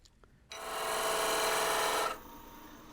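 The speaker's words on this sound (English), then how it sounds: "I'm going to switch back to that spindle gouge now for this operation" A spindle gouge cuts the neck of a small wooden twig pot on a lathe, making a steady, close rasping hiss that lasts about a second and a half before easing off to a quiet whir.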